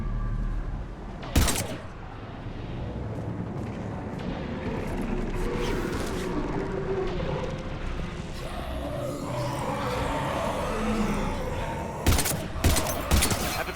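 Heavy gunfire from the video game Mass Effect 3 in a dense, continuous battle mix, with loud sharp bursts near the start and again toward the end.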